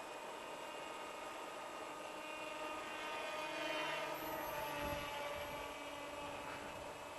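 A tail-less KFM2 radio-controlled model plane flies under electric motor power, giving a steady droning whine with a slight rise and fall in pitch, fairly distant and continuous, with no voices.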